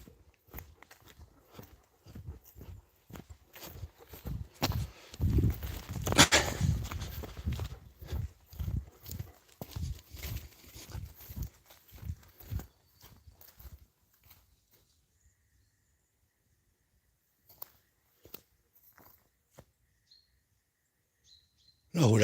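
Cows walking up a lane on a cold winter day, a long series of hoof steps in uneven rhythm, fairly close at first and then fading to a few faint distant steps, with birds calling faintly.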